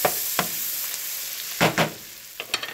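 Chipped beef dumped into a hot pan on medium heat for SOS, giving a steady fat sizzle with a few sharper stirring scrapes and spatters standing out. No voices are heard.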